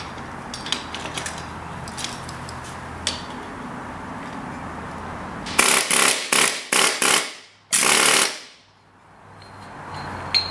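An air chisel fitted with a blunt bit drives a bearing flange loose in a shop, giving several short, loud rattling bursts and then a longer one, with quieter clinks of handling beforehand.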